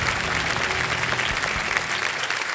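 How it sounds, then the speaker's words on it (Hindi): Studio audience applause on a televised Hindi quiz show, steady dense clapping that fills the whole stretch at close, loud level with no talk over it. "ताली बज जाए, ताली बज जाए, ताली बज जाए"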